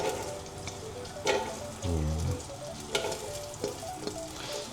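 Garlic sautéing in melted butter for chicken sopas gives a steady close sizzle with a few spoon scrapes and a louder bubbling burst midway.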